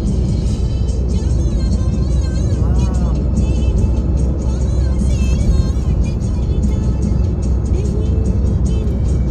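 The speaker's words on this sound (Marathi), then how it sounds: "आज इथे 80च्या स्पीडला गाडी चालवायचं एकदम काय" A car travels at around 80 km/h along Mumbai's coastal road beside the sea. Loud, steady road and engine roar runs throughout, with voices talking over it.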